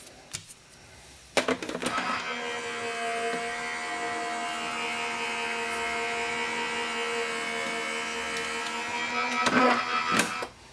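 A paper die-cutting machine runs for several seconds, giving a steady mechanical whir with sharp clunks at the start and end, heard close and alone.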